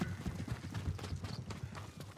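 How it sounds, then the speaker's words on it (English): Mongol horses trot in the video game Ghost of Tsushima, a steady run of quick, soft hoof clip-clops over a dense background wash, moderately near and fairly quiet, with no talk. "Are those Mongol horses?"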